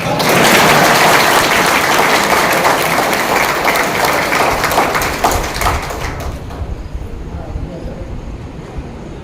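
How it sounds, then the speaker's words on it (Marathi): Loud, dense applause from a large crowd at a public speech in Ahmedpur, sustained for several seconds before tapering off into scattered claps and room noise. "जरा जोरात टाळ्या वाजवा"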